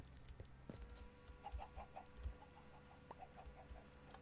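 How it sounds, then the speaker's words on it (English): Minecraft chickens cluck in a quick series of short, soft calls, repeated in a loose rhythm over a low background rumble and occasional thumps. "Oh, this is just how they got the chickens down here."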